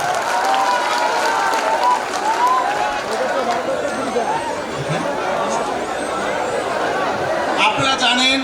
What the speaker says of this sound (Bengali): সবাই করতালির মাধ্যমে হাততালি দিয়ে আমরা অভিবাদন জানাবো